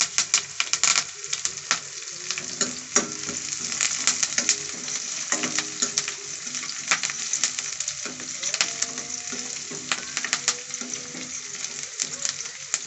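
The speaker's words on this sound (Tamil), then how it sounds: "வெங்காயம் நல்லா வதங்கணும் அதோட நம்ம தேவையான அளவு கருவேப்பிலை சேர்த்துக்கலாம்" Onions fry in a pan for drumstick curry, a busy, crackling sizzle with dense popping spatter that runs steadily throughout, with no talk.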